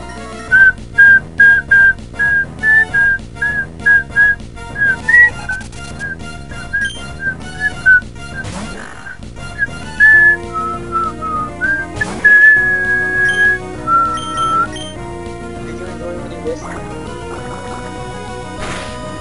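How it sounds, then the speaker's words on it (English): A person whistles a bouncy melody in a run of short, clear notes with a few longer held tones, playing over a quiet background of music from the Pokémon Emerald video game. "My whistling wasn't too bad."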